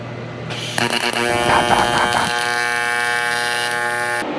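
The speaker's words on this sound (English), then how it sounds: "We'll see how this stuff welds here." A welder laying a bead on a round section of a drift e-brake handle from a GK Tech dual caliper setup: a loud, steady electric buzz and crackle starts abruptly and holds evenly for about four seconds, close up.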